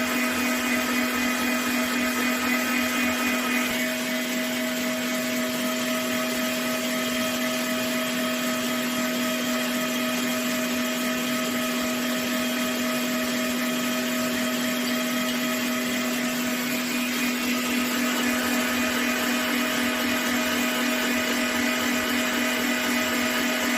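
Electric mixer beating cake batter, a steady loud motor whine with a strong constant pitch running continuously and alone, with a slight change in load partway through.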